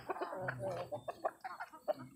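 Several chickens cluck in short, irregular bursts close by, with a low murmur of background activity underneath.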